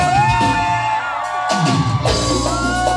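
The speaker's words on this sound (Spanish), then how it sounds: "Y el grito de la mujer." A woman lets out loud, drawn-out yells and whoops at a lively party. A crowd and music sound close around her throughout.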